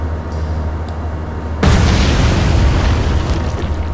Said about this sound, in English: boom, gets hit by the torpedo